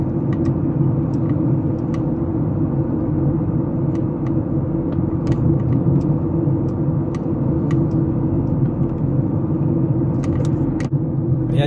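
A car cruising smoothly along Jumeirah Road in Dubai with light traffic, heard from inside as a steady low engine and road rumble, with scattered small clicks and rattles in the cabin.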